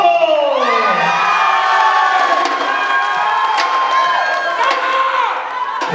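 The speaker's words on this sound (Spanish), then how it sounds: "Un fuerte aplauso para la pareja número dos." Loud crowd cheering and whooping for a couple during a Hora Loca party in Santa Cruz, Bolivia, shrill voices sustained close by with sharp pops of clapping scattered through.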